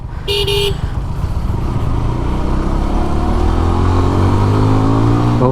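A GPX Demon motorcycle engine rumbles close and loud, rising in pitch as it revs, with a brief horn-like toot at the start.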